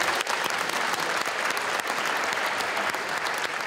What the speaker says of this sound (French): Je voudrais qu'on l'applaudisse chaleureusement.